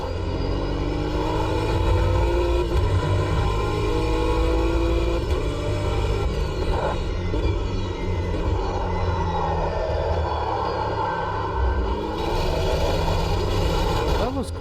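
Cadillac race car in the Automobilista 2 racing game, its engine droning steadily and loud, with a low rumble and a slowly shifting pitch throughout.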